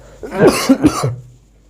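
A person coughs a few times in quick succession, close and fairly loud, with a short throaty rasp trailing off at the end.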